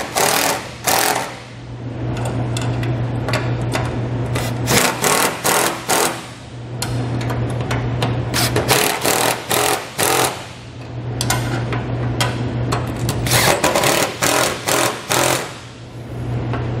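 Sharp, rapid metallic clicks from a 13 mm wrench tightening the nuts on a swiveling D-ring anchor with a backing plate, heard close up in fast bursts over a steady low hum, with short pauses between runs of ratcheting.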